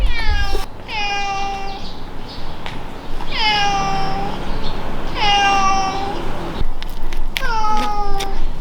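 A limping stray cat in a redevelopment area about to be demolished cries loudly and close by, with about five drawn-out, wavering meows separated by short pauses.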